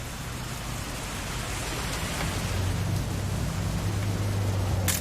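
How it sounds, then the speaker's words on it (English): Steady rain falling in the video game What Remains of Edith Finch, a dense, even hiss of drops on surfaces with a faint low rumble, continuous and without speech. "It's gonna rain the whole weekend, isn't it?"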